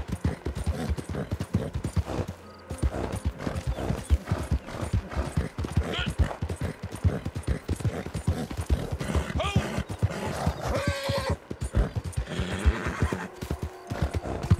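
Horse hooves clip-clopping steadily in Red Dead Redemption, with occasional neighs and whinnies over a busy game soundscape, fairly loud and continuous throughout.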